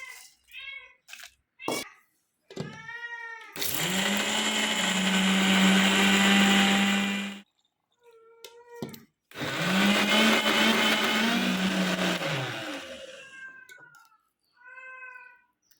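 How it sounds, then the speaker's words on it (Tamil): Roasted spices for Chettinad chicken gravy whirring in a mixer grinder in two long loud bursts, with a cat meowing repeatedly in the pauses before, between and after. "அடுத்து நம்ம வறுத்து ஆற வச்சுருக்க பொருட்களை ஒன்றா சேர்த்து அரைச்சி எடுத்து வச்சுக்கோங்க"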